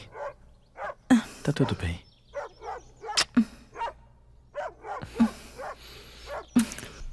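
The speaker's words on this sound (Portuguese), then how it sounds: "O cachorro está bastante agitado. Ele é um cachorro. E cachorros latem." An agitated dog barks in sharp, repeated bursts at close range in a Portuguese-dubbed film, interleaved with people talking.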